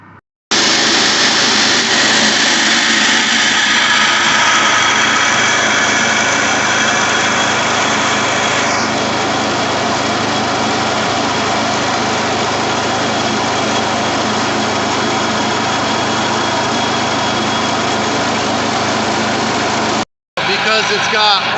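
A Cormac CQ480 concrete floor saw engine, freshly repaired at the carburetor and smoking from oil in the muffler, runs outdoors at a steady loud drone for about twenty seconds before cutting off abruptly, someone talking over it.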